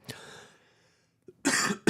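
A few sharp, close coughs: one brief burst at the start, then a louder harsh pair near the end after a quiet pause.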